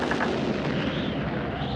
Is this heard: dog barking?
no